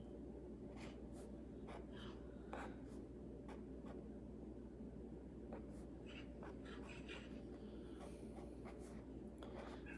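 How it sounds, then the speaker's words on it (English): An orange marker draws a chemistry diagram, a faint series of short squeaky strokes and scratches over a steady low background hum. "I'm gonna draw it in orange."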